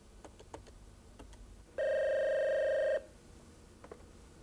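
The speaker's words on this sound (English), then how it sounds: "I'm going to make a call to Robert" A telephone rings once while a call is being placed, a steady electronic ring tone of about a second against faint background clicks, with no speech.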